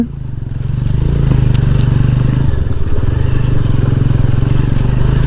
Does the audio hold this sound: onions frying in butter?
no